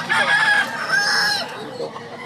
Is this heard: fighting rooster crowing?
yes